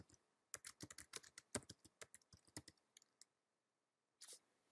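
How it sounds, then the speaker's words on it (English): Keystrokes on a computer keyboard while entering patient data into a medical claims program, a quick irregular burst of close clicks followed by a pause and one last short flurry. "Let's type something in."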